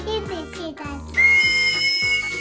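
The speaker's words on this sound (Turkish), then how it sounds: "tabii ki düdüğünü öttürüyor" A plastic toy whistle from a Paw Patrol surprise egg gives a loud, sustained shrill tone in the second half, with a voice heard before it.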